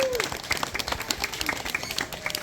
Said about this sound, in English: You can give him a round of applause.